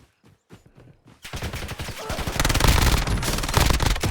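Gunfire in the video game Call of Duty Black Ops, a battle royale match. It starts with a few scattered shots and builds into loud, sustained automatic bursts.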